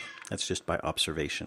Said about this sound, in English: You can hear my cat meowing in the background here.